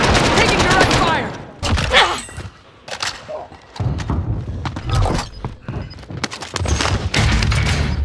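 Rapid bursts of video game gunfire crackle in repeated volleys, with sharp shots and dull thuds coming in clusters separated by short quieter gaps, loud and close throughout.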